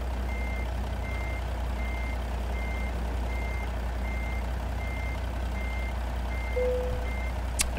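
Steady, evenly spaced reversing beeps from a truck backing up in a truck driving video game, repeating about twice a second over a constant low engine rumble, with a brief hiss near the end.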